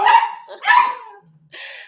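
Dogs let out two quick sharp barks, loud and close, followed by a short high whimper or yip, with no talk over them.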